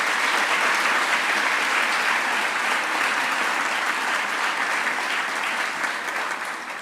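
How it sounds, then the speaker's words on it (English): Steady, dense applause fills a school assembly hall at St Andrew's School for Girls, honoring the leadership team, continuous throughout and tapering slightly at the close. "I want you to applaud, to encourage them in their leadership of the school"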